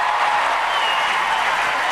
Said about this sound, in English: And the crowd right back into the game.